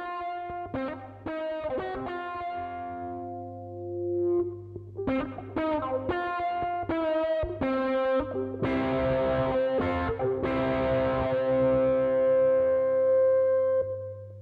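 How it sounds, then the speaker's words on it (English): Ukulele plucked and strummed through a cheap distortion pedal, giving fuzzy sustained notes and chords that break into a denser, harsher strummed wash toward the end, with no voices. "Let's just try a little bit of distortion."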